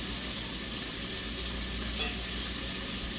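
Fried chicken pieces nearly done in hot oil, giving a dense, continuous sizzle and crackle that stays steady throughout, close and alone with no voices.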